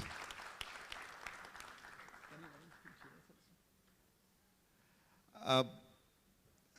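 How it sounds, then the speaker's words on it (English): Applause for Dr. Eltaeb Gadir at an annual general body meeting rises amid the room's noise, then fades into quiet before one brief louder knock. "So a big clap for Dr. Gadir."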